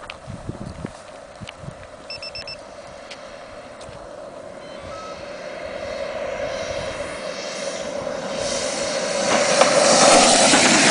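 A Griffin model airplane's engine drones steadily outdoors as it comes in to land, swelling louder toward the end as the aircraft nears.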